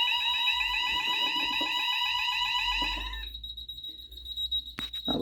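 A JSB FX2202 conventional fire alarm sounds during a system test, a loud pulsing electronic siren for about three seconds that then cuts to a thinner steady high beep, with faint handling noises.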